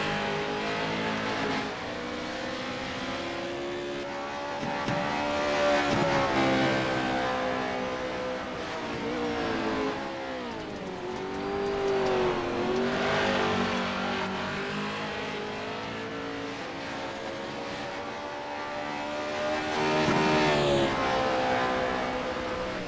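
Pro 4 race trucks thunder around a track in iRacing, engines droning and rising in pitch as they accelerate, with revving swells and passing vehicles blending into a steady, loud racing roar.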